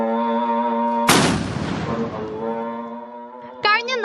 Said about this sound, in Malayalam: വാഴക്കാട് വലിയ ജുമാ മസ്ജിദിൽ ഇന്നും നോമ്പുതുറ അറിയിക്കുന്നത് കതിനവെടി പൊട്ടിച്ചുകൊണ്ടാണ്.